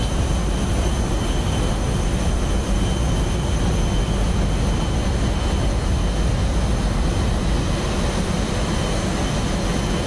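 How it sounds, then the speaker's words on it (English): Airbus A320 jet engines in the X-Plane 11 flight simulator, a steady, loud broadband roar with a faint high whine running unbroken throughout, no voices. "you can hear the engines have a slightly different sort of sound to them as we move around"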